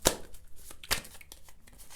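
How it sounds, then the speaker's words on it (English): A deck of tarot cards is shuffled by hand, giving crisp riffling bursts and flicks with a couple of sharp slaps, close and moderately loud. "I'm just going to shuffle these cards"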